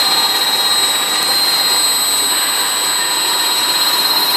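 A sludge dewatering machine runs in a lab with a loud, steady, close mechanical whir and broadband hiss that stays constant throughout, with no talking.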